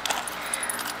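Keys pulled out of a handbag jangle in a quick burst of bright metallic clinks, close and light, with a few scattered rattles over about a second and no talking.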